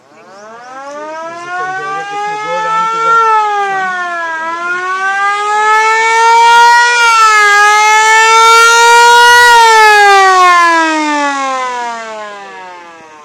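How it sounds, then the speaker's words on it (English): A police siren on a vintage Rolls-Royce car winds up and rises and falls in a loud, mechanical wail that swells and fades over about thirteen seconds, with no talk over it. "he had a police siren on the car, which I'm going to try and sound for you"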